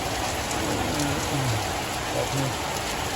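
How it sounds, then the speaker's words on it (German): Steady rain pours down in a dense, even hiss, with no other sounds standing out. "Also jetzt ist es am Regnen."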